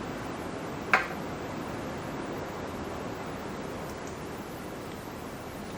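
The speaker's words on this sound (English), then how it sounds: "we got us a bit of a monsoon season going on, so if you hear a little rain in the background" Monsoon-season rain falling outside, a soft steady hiss of broadband noise in the background with one brief tap near the start, no voices.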